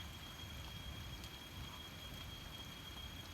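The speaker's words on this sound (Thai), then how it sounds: "มื้อนี้นี่ฝนตกทั้งวัน" Steady rain falling all day on a farm field shelter, a soft continuous hiss with low rumbling texture, even and unbroken throughout.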